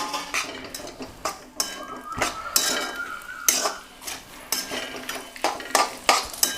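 Sabudana khichdi stuck to a pan being scraped off with a metal spatula, a busy series of sharp scrapes, clinks and knocks against the pan, close and with no talking.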